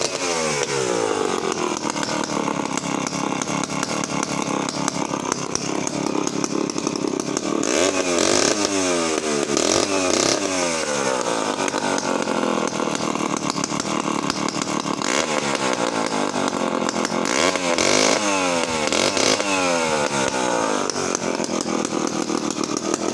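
Vintage British Danarm DD8F MKII chainsaw running, a loud raspy two-stroke engine idling and revving up repeatedly in bursts, close by with no talk.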